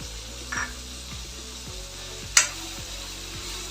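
Brinjal sautéing with spices in a pan for a spicy kara kuzhambu curry gives a soft, steady sizzle with a few faint clinks, and one sharp utensil tap stands out near the middle.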